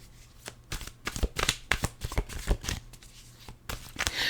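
Tarot cards are shuffled up close, giving a string of crisp riffling bursts and soft slaps in an irregular rhythm with brief pauses between them.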